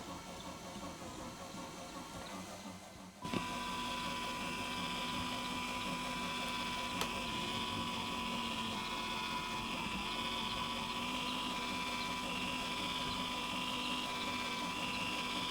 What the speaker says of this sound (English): at least the motor is running, it's driving the worm gear